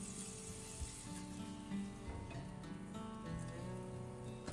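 Just over two tablespoons of butter melt and sizzle in a cast iron skillet on an RV stove as the base for turkey gravy, a faint, steady crackling hiss with no talking.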